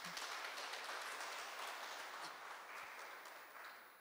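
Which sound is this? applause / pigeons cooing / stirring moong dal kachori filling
applause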